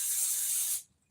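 A single close, loud hiss from a cooking spray can aimed over chicken parts, lasting under a second before cutting off sharply into quiet.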